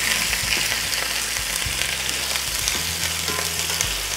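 Carrots sautéing in a pan until golden for beef and carrots, a steady close sizzle with low rumbling layers and occasional stirring scrapes, no talk.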